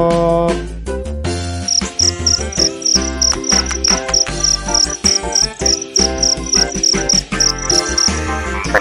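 Cricket chirps sound as a rapid series of high, bright pulses inside a children's song, set over loud music with bass and synth backing, steady and evenly spaced for several seconds.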